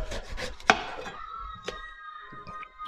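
An aubergine is peeled with a knife, giving short scraping and rubbing strokes with a sharp tap, close and fairly quiet, with no talk.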